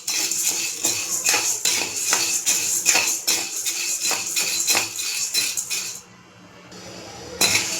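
A ladle scrapes and clinks steadily against a pan while black-eyed peas (lobia) fry, turned back and forth over and over in a busy metallic rhythm. No one talks.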